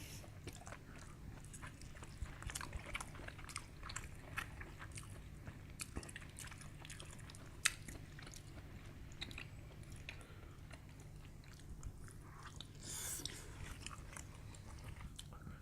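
Crab legs from a seafood boil, king crab and imitation crab, being bitten and chewed up close, with soft crunches, cracks and wet smacking sounds scattered steadily through the clip; no talking.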